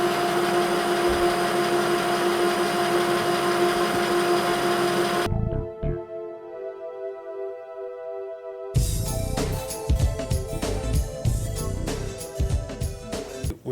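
A metal lathe turns down the base of a Wilton Bullet vise to a concentric machined surface, a steady motor whine with cutting noise that breaks off briefly and resumes with rougher, busier chatter.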